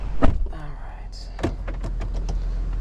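The parking brake of a newer Duramax pickup truck engages with a mechanical clunk and a short electric whir, followed by soft clicks and taps, close inside the cab over a low engine hum.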